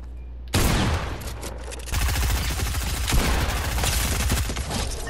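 Rapid continuous SMG fire in a shooter game, loud and close, dense bursts of shots rattling almost without pause after a short quiet lead-in.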